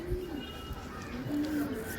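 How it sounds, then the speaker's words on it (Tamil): Racing pigeons coo softly and repeatedly, close by, as a low throaty murmur that runs through the whole short stretch, with faint background noise around it. "புறாக்கள் எல்லாம் வெளியே தீவனம் தின்னுக்கிட்டு இருக்குது"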